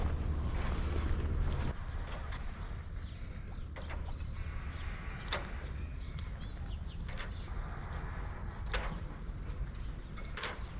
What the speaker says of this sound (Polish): Zobaczcie, wiaterek słabiutki wieje sobie.